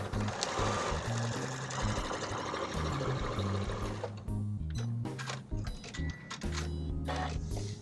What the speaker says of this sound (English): the only thing I'm really focusing on is sewing a straight line